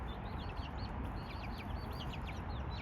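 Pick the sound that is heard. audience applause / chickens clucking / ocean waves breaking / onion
chickens clucking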